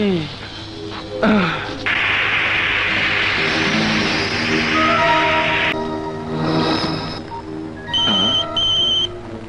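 A phone ringing in a Bangla film scene, its electronic tones rising out of a busy background near the end while voices talk.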